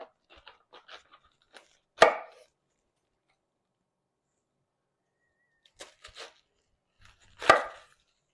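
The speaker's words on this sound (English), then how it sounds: "let's cut up this cabbage" A knife chops through a head of cabbage on a cutting board in a few sharp, distinct strokes, two of them louder, with small taps and quiet gaps between the cuts.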